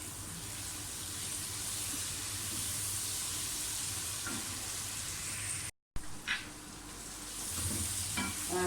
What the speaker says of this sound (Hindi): टमाटरों को, हरी मिर्चों को, सारी चीज़ों को अच्छी तरह से भूनें